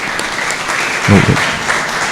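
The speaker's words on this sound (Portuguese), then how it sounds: "Senhoras e senhores, recebam com aplausos Vinícius Barreto." Applause from the audience at a public hearing on a city master plan, a brief burst of many hands clapping with a thump of handling noise partway through.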